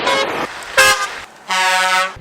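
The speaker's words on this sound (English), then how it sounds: "a lot of times when they drive by, they like to honk" A passing truck sounds its horn in loud blasts: a long tone, a short sharp toot, then another long sustained blast, close and abrupt over faint road noise.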